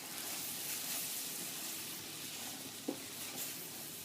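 Wooden spoon stirring flour into a ham croquette base in a pan, a steady soft sizzle with scraping under it and one small knock near the end.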